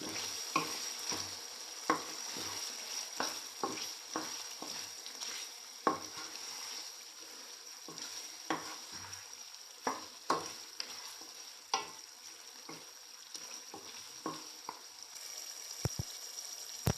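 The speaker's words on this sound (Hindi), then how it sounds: "तो अल्हम्दुलिल्लाह ये सारे मसाले हम इसमें ऐड कर रहे हैं। वो अच्छी तरीके से इसको मिक्स कर लेंगे।" Spices are stirred into beef karahi gosht sizzling in a wok, with a spatula scraping in a steady rhythm of close, regular strokes over a constant loud frying hiss.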